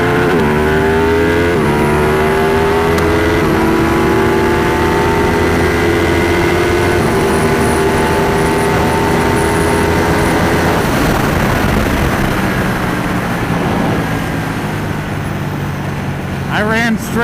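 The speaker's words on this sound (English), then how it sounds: "I ran straight into the limiter on that one." A Suzuki Hayabusa motorcycle accelerates hard in second gear from a roll, its engine note climbing loud and close until it bangs into the rev limiter. A voice briefly counts in beforehand.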